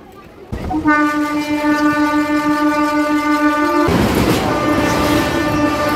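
A train pulls into Chengail station in West Bengal, its horn blaring in a long sustained blast over the rumble of wheels and carriages, loud and close, followed by a rushing roar as it passes.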